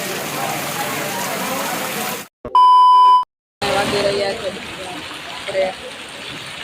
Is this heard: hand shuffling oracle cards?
no